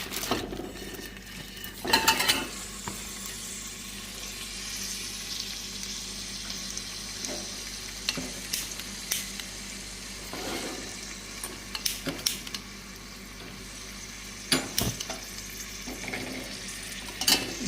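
Meat is lowered into hot oil already used for frying almonds, frying with a low sizzle while utensils clink and scrape against the pan in scattered bursts, with no talking.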